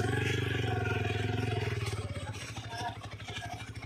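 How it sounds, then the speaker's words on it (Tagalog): Motorcycles pass along a rough road by a closed gate, a steady close engine drone for the first two seconds, then fading into uneven rumble and clatter as people talk nearby. "May mga ano naman motor yung dumadaan, no?"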